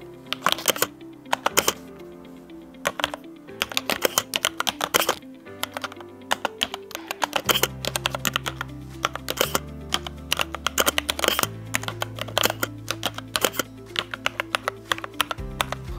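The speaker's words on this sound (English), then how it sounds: "Moving on to a bit of a typing test." Typing on a Cougar Gaming Puri Mini RGB 60% compact mechanical keyboard: close, crisp key clacks arrive in quick, uneven bursts with short pauses, over a faint low steady hum.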